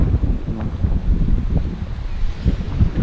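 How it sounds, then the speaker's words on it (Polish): Gusty wind on a winter mountain trek up Mogielica, around 3 degrees with snow on the ground, buffeting a foam-covered camera microphone in low, uneven rumbling bursts. No one speaks. "troszkę przytłumi ten wiatr, który tutaj nam przeszkadzał"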